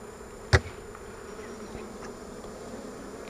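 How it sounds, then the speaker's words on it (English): Honeybees buzzing at a hive entrance during an inspection, a steady close hum of many bees, with one sharp knock near the start. "this is where all the foragers are coming back in, and they're older bees"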